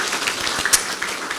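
Applause from an audience at a hospital infrastructure planning report launch, a brief burst of clapping at moderate distance.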